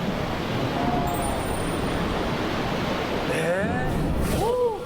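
Rough Mediterranean sea waves breaking on a rocky northern Israel coast, a steady broad wash of surf roaring throughout, with a few high bird-like cries and brief faint sounds near the end.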